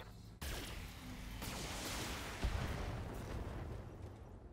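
Mech weapons firing in the video game BattleTech, a sudden onset of loud, dense roaring blasts and crackling fire that sustains for several seconds, with a thump midway.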